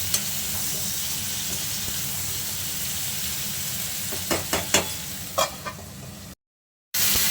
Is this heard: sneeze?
no